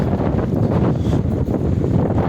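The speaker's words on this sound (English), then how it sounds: "the wind's nasty" Strong wind blasts across an open farm field and buffets the microphone with a loud, constant low roar and rumble that never lets up, with no voices.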